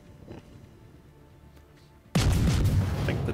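A torpedo strikes a Des Moines cruiser in World of Warships: a sudden loud explosive boom bursts in after near-silence and keeps roaring and rumbling to the end.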